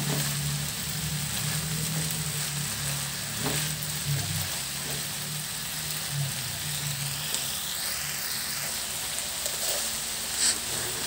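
Chopped kangkong (water spinach) frying in a pan with pork and tofu gives a steady hiss with a low rumble of stirring. The sizzle stays even for the whole stretch, no one talks, and a few soft clicks of the utensil break through now and then.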